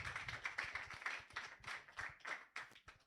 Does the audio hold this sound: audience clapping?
yes